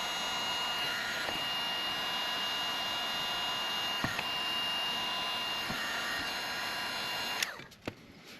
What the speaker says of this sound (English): So now I'll just take my heat gun.